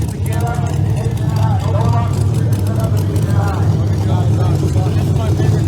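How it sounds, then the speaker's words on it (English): A nitrous-powered Speed Tech drag racing car with a Chevrolet body and a blower on top rounds a corner at Empire Dragway, its steady low engine rumble droning throughout beneath a commentator's continuous talk. "I believe we got Charlie Elmer coming around a corner in his nitrous powered Speed Tech machine."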